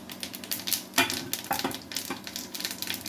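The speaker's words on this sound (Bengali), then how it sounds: "আমি ওই তেলে একটু জিরা দিয়ে দিলাম।" Cumin seeds sizzle and crackle in hot frying oil, a steady close frying hiss with a few sharper pops and scrapes of stirring, with no voices.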